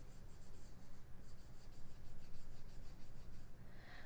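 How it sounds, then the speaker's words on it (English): A pencil held on its side shades on paper in close, soft, continuous rubbing strokes with a quiet, steady back-and-forth rhythm and no talking. "look how I'm using my pencil on its side"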